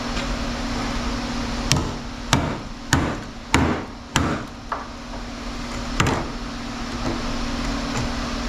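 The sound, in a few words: hammering to break apart a toroidal transformer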